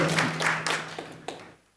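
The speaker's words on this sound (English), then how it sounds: "Please give me a round of applause." Applause from an audience at a marketing talk, several distinct claps in a short scattered burst that tapers off quickly into quiet.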